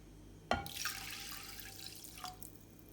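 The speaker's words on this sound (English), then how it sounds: "I will pour a cup of water into the rice." A cup of water goes into rice in a kitchen. There is a sudden splash, a short trickling pour that fades, and a few faint drips, close by and with no talking.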